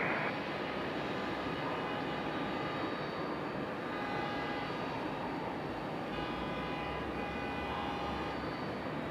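A Southwest airliner roars in a steady, broad rumble at Raleigh Durham airport on a hazy day, loud and sustained throughout with no voices.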